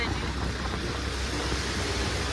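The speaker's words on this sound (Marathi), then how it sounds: "थंडा वारा चालू हो गेला" Cold wind rushes past on the Khandala ghat climb near Lonavala during a motorbike ride, a steady, loud, close roar of wind buffeting that never lets up across the whole stretch.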